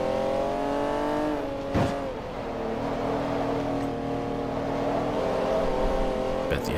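A Honda NSX race car in Forza Motorsport 3 holds a steady, high engine drone with shifting pitch as it drives, with brief whooshes of passing noise near the start and end.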